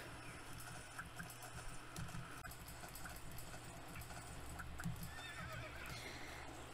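Horse in the Star Stable riding game, with clip-clop hooves and a neigh over a busy background; very faint overall.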